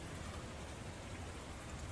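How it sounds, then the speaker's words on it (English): Steady rain hisses as a dense, even wash of noise in a short stretch, with no distinct thunder crack standing out. "you hear the thunder sounds, and you start to hear the rain"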